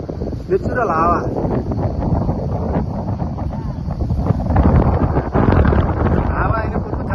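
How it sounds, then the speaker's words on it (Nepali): A vehicle drives along on the road, its engine rumble buried under heavy, gusting wind buffeting the microphone for the whole stretch, with a brief voice near the start. "हावा होइन, गाडी कुदिरहेको छ त यहाँ गाडी।"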